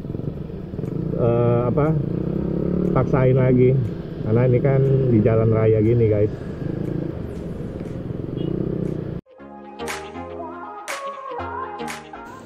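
Yamaha Nmax scooter fitted with an aftermarket AHM exhaust, revving on a road with a deep steady engine drone and rising throttle blips. Someone talks over most of it before the engine drops away.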